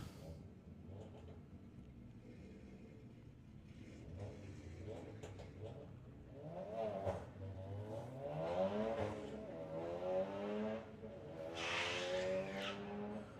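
Drag racing cars launching at the STP Summer Nationals, engines roaring and rising in pitch as tyres break loose and squeal, heard from a distance with a rising crowd-and-track roar.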